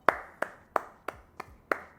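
A single person claps slowly and deliberately in a quiet room, six or seven crisp, evenly spaced hand claps close to the listener, each with a short decay.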